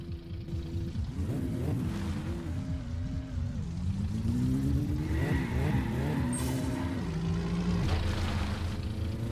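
Old car engine revving in the My Summer Car video game, a rough low drone that climbs and falls in pitch through repeated accelerations, with brief tire scrubbing, steady and fairly close.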